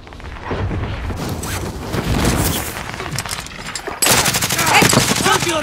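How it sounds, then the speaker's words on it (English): Rapid automatic gunfire rattles through a video game firefight, dense bursts of shots layered with booms, growing louder and sharper toward the end. "Why y'all shooting at me?"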